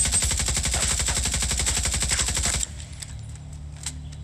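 Automatic gunfire in The Division 2 video game as a target is shot out, a rapid, loud, evenly paced burst that stops abruptly and leaves a low hum and faint clicks.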